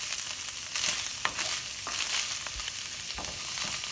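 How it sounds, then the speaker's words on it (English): Ground beef frying in a pan of sauce that is coming to a boil, giving a steady close sizzle with a few scraping stir sounds and light clatters over it. "The sauce is starting to boil, so we're going to dump this right in here"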